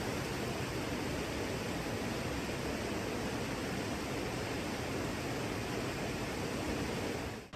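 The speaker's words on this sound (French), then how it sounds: "On vient d'arriver à la dernière cascade de la randonnée et c'est la plus belle des 3." Steady, dense roar of the last waterfall on a hike in Australia, loud and continuous with no change from start to finish, with no voices over it.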